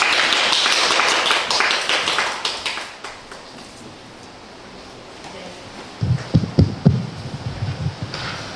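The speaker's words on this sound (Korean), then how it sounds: "박수로 맞이해주시면 감사하겠습니다" An audience at a gallery artist talk claps loudly at first, the applause fading to near quiet, followed by close tapping and handling noises.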